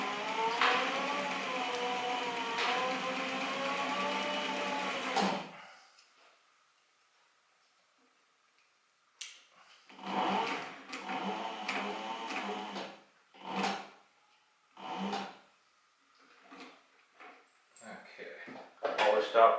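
Cobra 20 sewing machine stitching in several short mechanical bursts of rapid clatter, quiet and close, after a stretch of speech and a silent pause.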